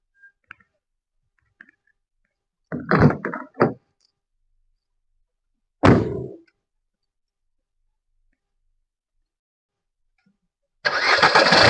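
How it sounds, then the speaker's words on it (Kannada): A 2017 Suzuki Ertiga ZDI+ diesel is push-button started: a few faint clicks, two short cranking bursts and another isolated burst, then the engine catches and runs loudly at the end, with long silent gaps between. "ಗಾಡಿ ಸ್ಟಾರ್ಟ್ ಆಗಿದೆ. Button start"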